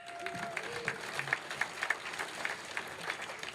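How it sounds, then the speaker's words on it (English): Sparse, scattered clapping from a small audience at an award dinner, a handful of distinct hand claps at irregular intervals, fairly faint and distant. "A big round of applause for Navir."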